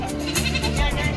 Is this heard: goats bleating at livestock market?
yes